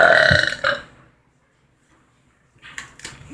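A single loud, close burp rumbles for about a second, then gives way to near silence before faint movement and noises return at the end.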